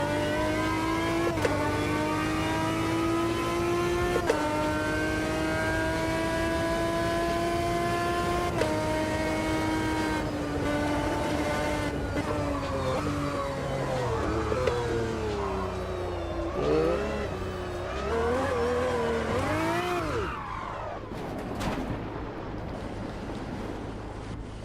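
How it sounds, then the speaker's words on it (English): Maserati MC12 race car in Automobilista 2, its engine droning steadily with strong rising and falling harmonics, then revving through shifts and downshifts near the end, loud and close with no talk. "this is the Maserati MC12"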